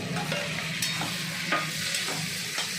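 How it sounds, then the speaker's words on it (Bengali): Tomatoes go into a pan of fried onions and spices, giving a steady, close sizzle with scraping stirs at intervals and no talking. "পেঁয়াজটা দেখুন ভাজা ভাজা হয়ে গেছে এই অবস্থাতে আমি এবার টমেটোগুলো দেবো"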